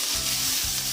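Yellow and green capsicum sizzling and frying in a hot wok over a high flame for egg chow mein, a steady close crackle with stirring scrapes throughout and no voices.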